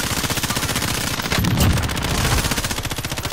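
Rapid automatic gunfire from an online duos shooter match, a dense continuous stream of loud shots with a heavier burst midway.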